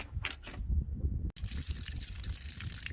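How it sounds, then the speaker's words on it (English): Water runs and splashes from a spigot on the Arizona Trail, a soft close gush with a short break before it flows again. "The water's white and it comes out all funky."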